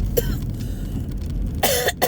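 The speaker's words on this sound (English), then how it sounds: "Excuse my coughing, guys." Someone coughs a few times, a cold apparently coming on, with the bursts close by and loud, set against a steady low rumble like a car interior during driving practice on a 35 mph road.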